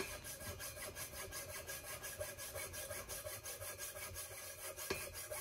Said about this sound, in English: I'll be using my hacksaw with 18 TPI Sandflex blades.